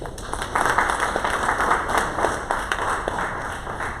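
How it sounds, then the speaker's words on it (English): Audience clapping for the panelists at an ocean business roadshow, a steady round of many hands at moderate distance, fairly even in loudness from start to finish. "Okay, another round of applause for our panelists,"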